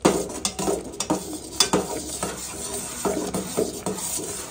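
A stick or ladle stirs thick ragi flour porridge in a pot, making repeated soft thuds and scraping sounds in an uneven rhythm. No one speaks.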